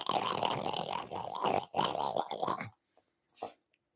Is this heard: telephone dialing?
no